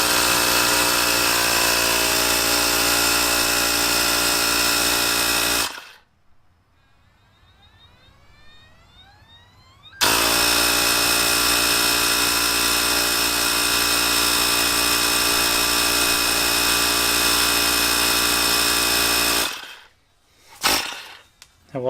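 A Ryobi P737 18-volt cordless power inflator pumps up a tire with a loud, steady motor drone. It runs for long stretches, stops in a short quiet gap, starts again and ends with brief bursts.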